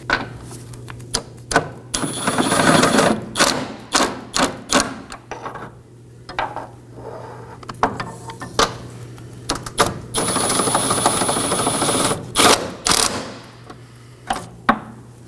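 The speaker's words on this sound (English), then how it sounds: "Now I'm going to go ahead and snug down my body side bolts." Ratchet work snugging down transmission mount bolts on a 2018-2024 Chevrolet Equinox: bursts of rapid metallic clicking, repeated many times with short pauses between, close up and loud, with no talk over it.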